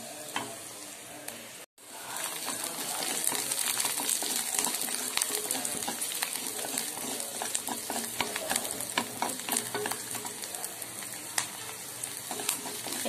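Garlic chutney ingredients sauté in a pan, a steady bright sizzle with frequent scraping and stirring clinks, close and continuous after a brief cut near the start; no talking.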